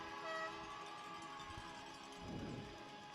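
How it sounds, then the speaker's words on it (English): Loud, sustained air horns blare over a roaring hockey arena crowd after a Minnesota Wild game, holding steady blasts throughout with the crowd noise swelling beneath them. "The old air horns will sound."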